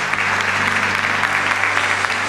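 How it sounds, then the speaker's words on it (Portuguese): A church congregation claps together through a worship service, producing dense, loud, continuous applause that fills the room with no speech over it. "Vamos aplaudir o nosso Deus,"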